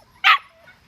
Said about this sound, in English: this is the red collar pup right in front of us that's yapping at me